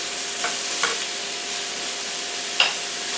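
Big pieces searing in a hot pan, a dense continuous sizzle with a few soft pops and one sharper crackle, close and even.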